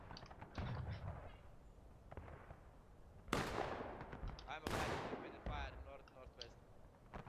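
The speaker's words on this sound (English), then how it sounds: "They're shooting at these men running across the field." Musket fire in the Civil War game War of Right, during a public match skirmish at East Woods: two loud sharp gunshot cracks with trailing echoes, amid scattered distant shots and people talking.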